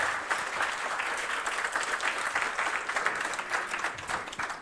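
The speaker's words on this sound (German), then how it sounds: "Und wir machen Applaus nochmal für die erste Gruppe hier" Warm applause for the first group at a Jugend hackt youth hackathon in Rostock, a crowd clapping steadily in a soft continuous patter heard from some distance, with no talking over it.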